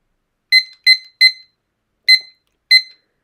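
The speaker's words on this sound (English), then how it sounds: "so let me just set this clock" Clock timer beeping as it is being set, five short sharp electronic beeps, three in quick succession and then two spaced apart, loud and close in otherwise silence.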